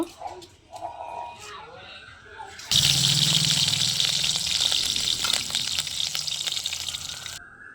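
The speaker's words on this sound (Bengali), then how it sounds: "এবার মাছটা ভাজা করব" A fish drops into a hot pan and sizzles loudly, a sudden hiss that holds steady for about five seconds after a stretch of talking, then cuts off.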